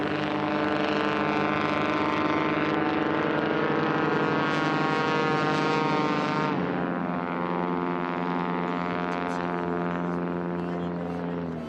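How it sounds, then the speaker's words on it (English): A hopped-up O-340 engine on a Carbon Cub STOL drag racer, burning nitrous oxide and swinging a composite prop, roars steadily at high revs with a rich harmonic drone that shifts pitch briefly partway through. "Now listen to this carbon cub in the number 1 lane."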